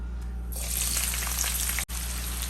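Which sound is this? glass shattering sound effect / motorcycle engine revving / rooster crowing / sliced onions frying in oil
sliced onions frying in oil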